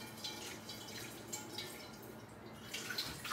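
Running tap water splashing while a pan is rinsed in a kitchen sink, a faint, steady patter with small drips and clinks.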